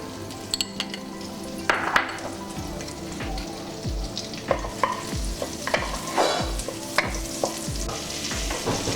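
Butter sizzles in a kadai for dhaba-style jeera rice while a spoon stirs it in steady repeated scraping strokes, close and fairly loud, with no talking.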